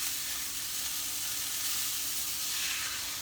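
A steak sizzles in a cast iron skillet, a steady, loud, bright frying hiss that holds evenly throughout, close up and with no voices.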